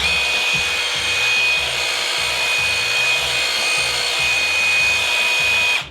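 A ProCraft HD 20A cordless rotary hammer runs steadily and loudly, a constant motor whine with a rough low rattling underneath, cutting off abruptly at the end during a kickback control test.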